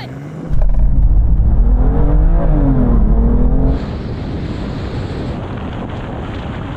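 A BMW M2 and a new BMW M240, rear-wheel drive, launch in a drag race, loud engine roar rising through gears, then buffeting wind noise at speed.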